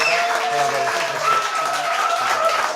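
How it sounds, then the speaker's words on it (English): Audience applause at a British Lions 2013 pre-tour event, a steady round of clapping from a crowd sustained throughout with faint chatter and calls mixed in. "If we could just have a massive round of applause for Stephen Jones, Martin Offiah, Ugo Monye,"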